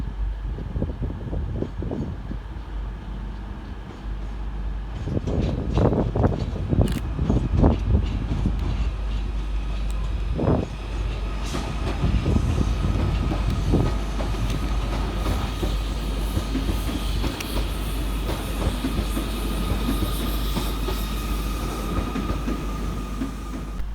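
A Northern service from Manchester Piccadilly, unit 331020, pulls into a platform at Crewe station: a steady low rumble of wheels and motors with clattering bursts and brief squeals, close and loud throughout.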